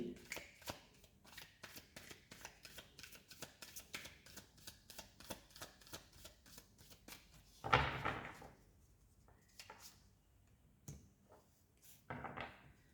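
Tarot cards are riffled and handled in a rapid series of crisp, close slaps and flicks, with a card pulled from the bottom of the deck, then sparser taps and rustles.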